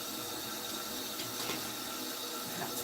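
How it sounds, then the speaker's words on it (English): Tap water runs steadily to rinse powdery toys, a close, even hiss and splash with no break. "Just gonna give these a quick rinse off"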